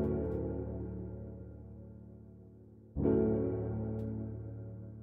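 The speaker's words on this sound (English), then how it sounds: "I've just taken that same recording of the Nord piano audio and" The Nord keyboard piano recording pitched down an octave and EQ'd for extra weight: a deep, heavy sustained chord decays slowly, then a fresh chord strikes midway and rings on, with no voices.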